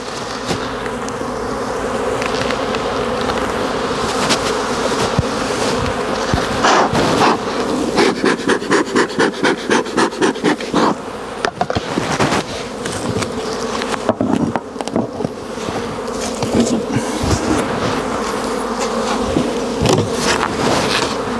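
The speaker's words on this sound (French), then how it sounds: "Je regarde la population dans les ruches." Honeybees buzzing in a dense, continuous drone from an open beehive, loud and close, with brief clicking and knocking noises in the middle and no voices.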